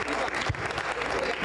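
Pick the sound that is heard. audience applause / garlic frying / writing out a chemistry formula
audience applause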